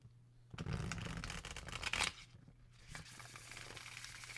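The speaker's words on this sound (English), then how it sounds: "Let's shuffle the deck." Thin, flexible linen-finish tarot cards are riffled in a quick papery flutter, followed by softer shuffling and tapping, close up with a low hum underneath.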